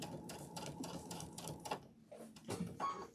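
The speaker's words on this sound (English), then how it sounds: "I'm going to start sewing" A sewing machine stitching a fabric door banner hums in a steady, rapid mechanical rhythm, close but fairly soft, with brief pauses and a few slower stitches near the end.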